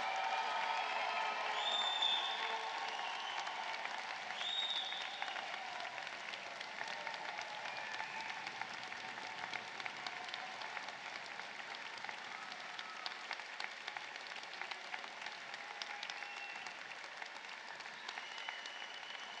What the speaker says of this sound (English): we promised there would be a moment for thunderous applause